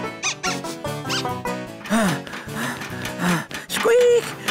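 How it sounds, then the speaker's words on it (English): Cartoon squirrels in Ben and Holly's Little Kingdom give bright, high squeaks, several short chirpy calls mixed with excited character voices, close and clear. "Squirrels watching? Check! Go, go, go! Squeak, squeak, squeak!"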